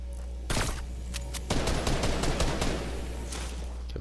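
Sniper and other gunfire in the Fortnite battle royale video game: a sharp shot rings out, then a long burst of rapid shots and a few scattered cracks, all loud and close, with no talk.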